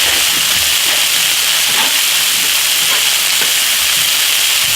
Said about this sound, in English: I'm going to drop my garlic right into that spot.